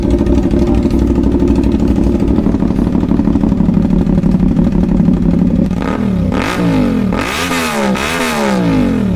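A CFMoto 450SR motorcycle with an aftermarket shorty exhaust idles loudly up close with a steady throbbing burble, then is blipped through several sharp revs that rise and fall.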